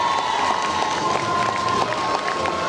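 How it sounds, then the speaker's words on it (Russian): Crowd at a 2015 awards ceremony breaks into loud, sustained applause mixed with cheering and shouts, steady throughout the short stretch with no clear speech on top. "Да-да-да, встречаем аплодисментами!"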